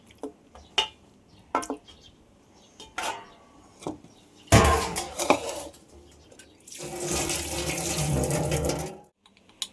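Tap water running over chicken being washed in a kitchen sink: soft splashes and clatter, then a loud burst of flowing water, a pause, and another sustained stretch of running water before it stops.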